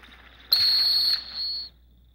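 A handler's whistle directing a retriever at a field trial semi-final in Northfield, Minnesota: one sharp, shrill blast of about a second that dips slightly in strength before cutting off, standing alone over a quiet outdoor background.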